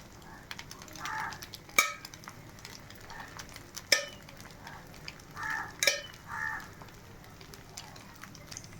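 Tuber and egg paniyaram fry gently in oil in a pan over low heat, giving a soft, steady sizzle broken by a few sharp metallic clicks, with a voice talking faintly in places.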